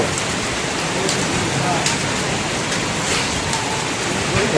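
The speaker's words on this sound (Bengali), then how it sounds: "এই শিলটা পড়লে তো ক্ষতি রে দাদা।" Hail mixed with rain falls heavily during a short storm, a loud, constant wash of patter close at hand with no break.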